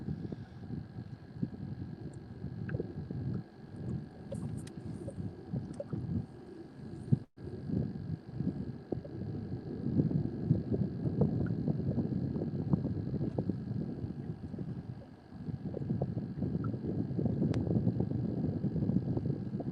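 Steady cool wind buffets a microphone out on a lake during a fishing outing, a continuous low rumbling roar with gusty swells and a faint constant hum beneath, no talking.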